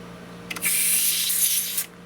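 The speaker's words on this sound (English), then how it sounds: "we're going to clean these out with a little bit of air" Compressed air blasts dust out of the controls of a 1979 Yamaha CR-620 vintage receiver. A couple of short puffs lead into one loud, sustained hiss that lasts about a second, up close.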